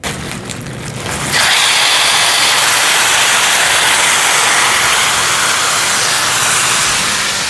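Shrimp sizzling in a hot pan, a loud steady hiss that swells suddenly after a second and holds strong, with no talking over it.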